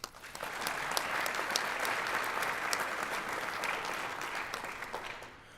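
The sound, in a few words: audience applause at school board meeting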